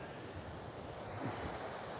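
Ocean waves break on the shore in front of an oceanfront yoga session, making a steady, faint wash of surf mixed with wind rumble on the microphone, with no voices.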